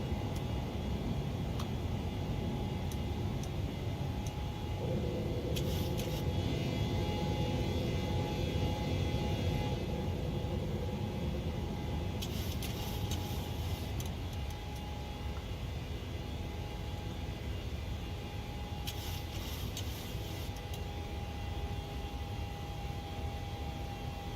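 A PMDG 737 climbing after takeoff in Microsoft Flight Simulator 2020 gives a steady broadband jet engine roar with hiss, holding fairly even at moderate level, with a few brief higher-pitched bursts over it.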